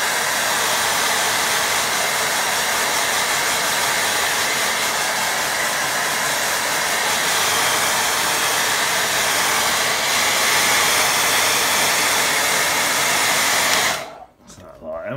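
A hair dryer blows on a watercolour painting of a rocky shoreline, giving a loud, steady whooshing roar that continues unbroken for most of the clip and then cuts off abruptly near the end.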